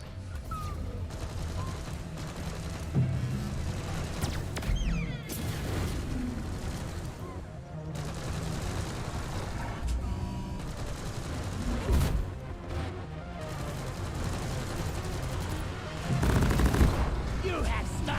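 Rapid bursts of gunfire and weapon clatter in Deep Rock Galactic during co-op cave combat, moderately loud and intermittent, mixed with mechanical noises and occasional bigger blasts while players talk.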